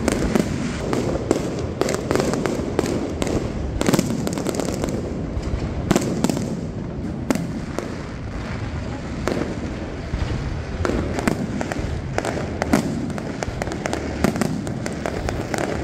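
New Year fireworks at Darling Harbour, Sydney, a dense, continuous barrage of bursts and crackles from a distance, with sharp louder bangs popping out irregularly across the whole stretch.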